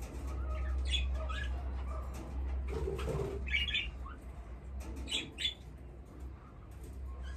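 Parakeets squawk and chirp in an aviary, with scattered sharp calls and some wing flutter over a steady low hum, with no talking.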